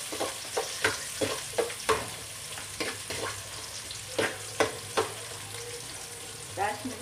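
Onions sizzling in cooking oil for Filipino-style menudo, with a steady fry hiss and several sharp stirring scrapes and clatters spaced through it, fairly close and without talk.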